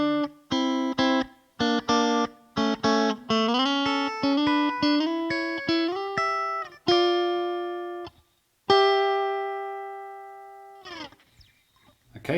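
Electric guitar plays the final verse of a song alone, with clean picked single notes and double-stops in a steady rhythm, closing on a long sustained ringing note that fades out.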